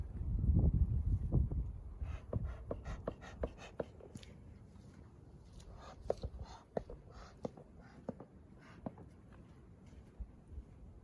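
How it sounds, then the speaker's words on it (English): Gusty wind blowing outdoors at beehives in spring, with a loud low buffeting rumble on the microphone for the first second or so, then easing into a steady breeze broken by scattered faint clicks and knocks. "I don't know what you guys are going to be able to hear because of the wind"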